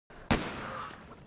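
A single sharp gunshot from a Band of Brothers war scene cracks out close and loud, then decays into a brief echoing tail.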